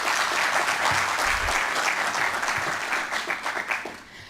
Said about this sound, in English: Please, once again, give them a round of applause.